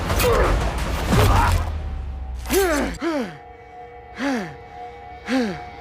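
Dune: Part Two Harkonnen soldier panting out of breath, heard as repeated rising-and-falling breathy gasps, close and distinct, following a louder burst of rumbling action at the start.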